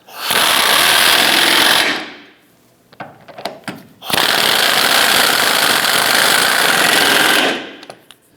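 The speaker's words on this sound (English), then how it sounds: "Tighten down the front 2 bolts." A power tool tightens subframe bolts on a 2008-2013 Nissan Rogue in two loud, close, rattling bursts of about two and three seconds, with a short gap of clanks between them.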